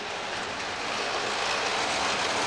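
A model train locomotive runs on a test track with a steady, bright rushing rumble that holds throughout and grows slightly louder toward the end.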